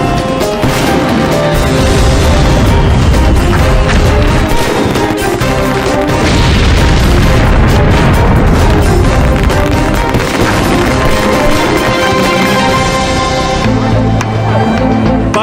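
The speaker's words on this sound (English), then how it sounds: "Pyrotechnics shooting off in all directions, igniting adjacent fireworks stands." Fireworks at a burning fireworks stand explode continuously in a chaotic barrage of loud bangs, crackles and booms, close and overlapping throughout.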